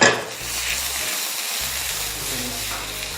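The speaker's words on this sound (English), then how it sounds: "Now we'll saute our spinach, some olive oil in the pan, chopped garlic" Chopped garlic sizzles in hot olive oil in a pan, a steady bright frying hiss that holds evenly from start to finish, with a soft knock at the very beginning.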